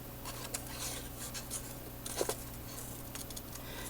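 Paper clovers being cut out with scissors, giving soft, close snips and rustling at an uneven, unhurried pace with a few sharper clicks, alone without talk.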